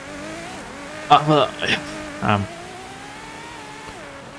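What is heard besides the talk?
Ferrari car engine in Forza Horizon 5 video game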